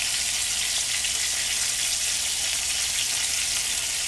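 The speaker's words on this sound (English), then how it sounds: "Then we took our cooked broccoli, put it in our pan with some olive oil, garlic, and plenty of crushed chili" Cooked broccoli frying in a pan with olive oil, garlic and crushed chili, giving a steady, loud, close sizzle that runs evenly throughout with no talking.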